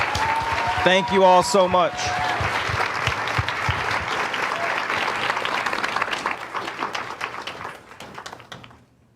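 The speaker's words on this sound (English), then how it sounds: "let's give them a round of applause" Enthusiastic audience applause at the Overheated Live 2024 event swells right after a brief spoken thank-you, with dense clapping and a few cheers that fade out over several seconds.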